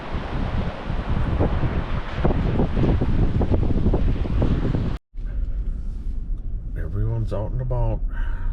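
Waves crashing on the Lake Michigan shore in the wind, heard as loud broadband surf and wind rumble through the first five seconds, then a cut to a quieter scene with someone talking.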